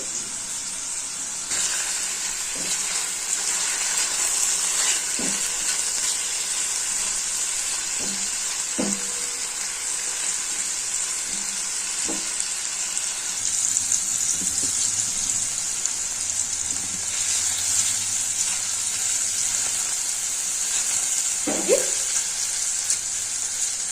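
Ridge gourd frying in hot oil in a home kitchen pan, a bright continuous sizzle lasting throughout, punctuated by occasional soft knocks of a utensil, close and without speech.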